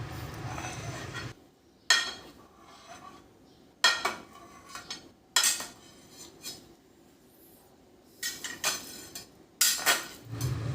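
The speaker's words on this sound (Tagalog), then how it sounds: "Pagkalamig, saka na natin hiwain ng maliliit na pa-cubes." A knife slicing set corn gelatin into small cubes on a hard surface, heard as a series of separate sharp clicks and taps with short quiet gaps between them, close and clear with no talking.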